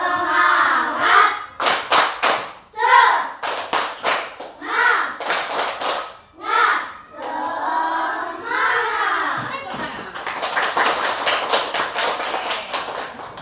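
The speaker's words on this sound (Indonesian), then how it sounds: "Ayo silakan tepuk semangat" A class of fifth-grade primary school children does a rhythmic spirit clap in unison, with bursts of sharp synchronized claps in patterned groups alternating with shouted chanting, ending in a longer run of rapid clapping.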